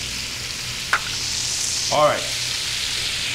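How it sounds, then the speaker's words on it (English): Onions sizzle in rendered bacon fat with a steady, close hiss and a few sharp pops, while someone briefly speaks over the frying. "Now I'm going to add all of these onions inside of that bacon fat"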